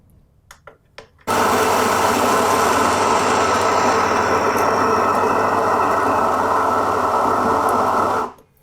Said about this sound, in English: But compared to what the electric grinder does, touch of a button.